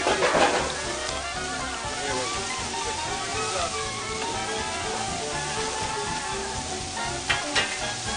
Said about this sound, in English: we're going to add the onions to this pan